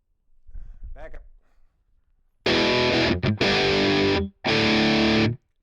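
Jackson SLS Super Light Soloist USA Custom Shop electric guitar through a heavy wet cab impulse response, loud distorted chords played in two long sustained blasts after a short quieter lead-in phrase.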